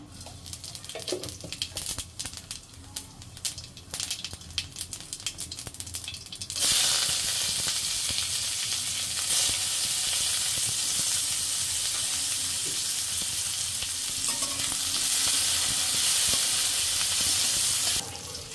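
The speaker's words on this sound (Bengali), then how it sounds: "এই যে পেঁয়াজ ভাজা হয়ে গেছে, তেলের সম্বাদ দিয়ে দিব।" Cumin seeds and onions go into hot oil in a heated kadai. Quieter rustling and clinks give way to a sudden loud, sustained sizzle that stays steady and close until the end.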